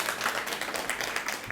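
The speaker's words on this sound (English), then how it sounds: "have a big round of applause" A school audience claps enthusiastically in a large room, a dense burst of many hands applauding continuously for a moment, close and fairly loud.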